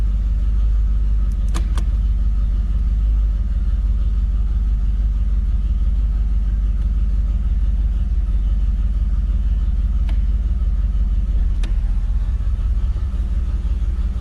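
A 1984 Camaro Z28 engine idles steadily after a cold start with a low, even rumble, close by, broken only by a few faint clicks.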